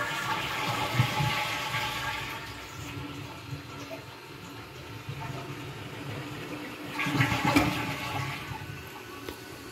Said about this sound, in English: So, let's flush it and see if it fills up again like this.